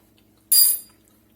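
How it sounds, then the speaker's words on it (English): A small spoon dips into Creole jambalaya rice in an Instant Pot, giving one short metallic clink and scrape against the pot, fairly quiet and alone. "I'm going to get me a little spoon here to see how we are on that rice"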